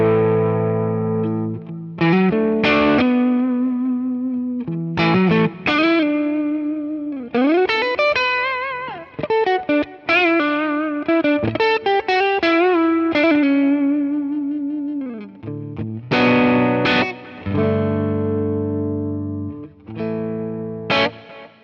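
Yamaha RGX electric guitar on the neck pickup at lower gain, playing bluesy melodic lines with bends and effects coloring, loud and upfront with no voices.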